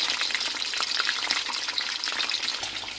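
Chicken pieces frying in a pan for a steamed chicken roast, a dense steady crackle and sizzle of hot oil with scattered sharp pops, close and continuous with no talk.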